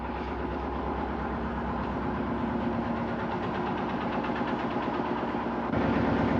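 A ship's engine room drone on the Marco Polo: a steady, heavy mechanical hum with rhythmic knocking, continuous and close, getting slightly louder toward the end.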